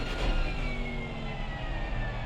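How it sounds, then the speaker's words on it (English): Lexus GT3 race car engine in a racing video game at Silverstone, a steady sustained drone with faint high whine, continuous and fairly even in level throughout, no speech over it. "If there's one of the better sounding cars that I like, is the Lexus. Let's hop in it as you listen to that car."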